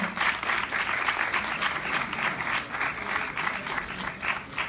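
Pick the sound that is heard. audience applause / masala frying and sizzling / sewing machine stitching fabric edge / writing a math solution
audience applause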